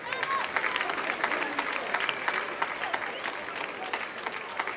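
An outdoor crowd at the Palio degli Asinelli donkey race in Ollolai, Sardinia, applauds the winner with sustained, lively clapping and some cheering, fairly close and continuous throughout.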